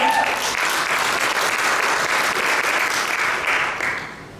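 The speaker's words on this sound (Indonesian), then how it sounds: "Boleh sekali lagi berikan tepuk tangan yang terbaik buat Tuhan dong." A church congregation claps in warm, continuous applause, loud and close, with crowd noise mixed in, fading a little toward the end.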